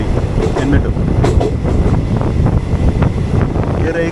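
Interior of the Mangalore-Mumbai CSMT superfast express, AC 2-tier coach, running steadily with a continuous loud rumble, wind rush and faint rhythmic clatter, no pauses.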